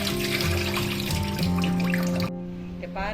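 A kitchen tap runs steadily while mutton is washed, a close, continuous splashing flow that cuts off abruptly shortly before the end.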